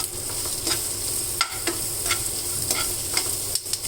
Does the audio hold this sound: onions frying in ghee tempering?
yes